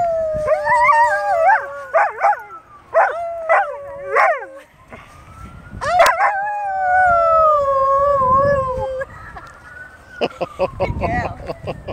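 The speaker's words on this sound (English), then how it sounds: "Is Lena going to howl?" A dog howls in long wavering rising and falling notes, interrupted by short yips, with a faint siren wailing in the background and occasional voices.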